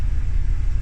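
Steady low engine rumble heard from inside a moving bus carrying pilgrims near Jabal Rahmah at Arafah, a continuous close drone with road noise and no talk.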